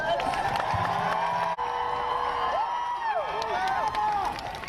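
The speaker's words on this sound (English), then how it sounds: "So let's give her a big round of applause." A large outdoor crowd at a climate strike rally in Denver applauds and cheers, with scattered clapping under rising whoops and shouted voices that swell and trail off slightly at the end.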